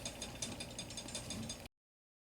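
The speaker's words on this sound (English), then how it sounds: "take the two M3 30 millimeter screws out that hold the hot end in place" Two M3 30 mm screws being undone from the hot end of a RepRap Wilson 3D printer produce a quick, steady ratcheting clatter, close and quiet, that stops abruptly.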